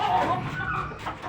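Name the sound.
young hen clucking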